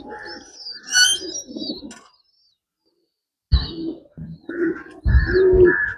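Racer pigeons of the cotton breed coo in short murmuring phrases near at hand, a pause of silence splitting two bursts of soft, throaty calls.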